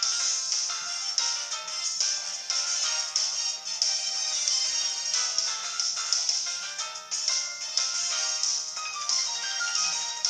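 A phone plays a text message alert as a bright, repeating electronic melody of quick chiming notes. It runs continuously at an even level with no voices.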